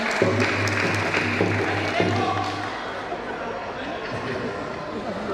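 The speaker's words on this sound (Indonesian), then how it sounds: "Kita berikan tepuk tangan." Audience applause at a Batak family clan gathering, a broad wash of clapping under loud crowd chatter and hubbub, with a low musical hum fading out partway through.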